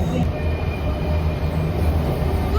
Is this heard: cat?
no